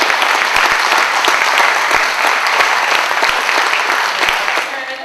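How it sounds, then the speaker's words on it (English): An audience at a high school graduation ceremony applauds a graduate with brisk, close clapping that holds for several seconds and then begins to fade. "Let's give him a round of applause."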